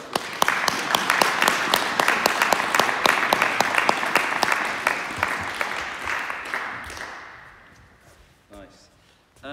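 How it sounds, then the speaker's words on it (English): Church congregation applauding during a confirmation service, dense sustained clapping that fills the room for several seconds before thinning out and fading toward the end. "Give him a round of applause"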